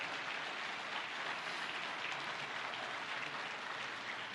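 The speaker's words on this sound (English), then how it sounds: "I give another round of applause to these great congressmen, this great senator, this great panel" A crowd at a political event applauds congressmen, a senator and a panel, making a faint, distant, continuous patter of clapping that stays steady without a break, sounding almost like rain.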